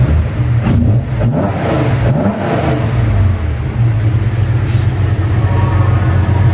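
A Nissan Skyline Hakosuka at an auction in Nagoya revs its engine nearby, a loud, throaty rumble that swells and falls in a few blips before settling into a steady idle.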